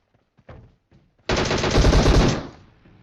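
Rapid automatic gunfire in a shooter video game, a loud dense burst lasting about a second after a few faint earlier pops, then fading out.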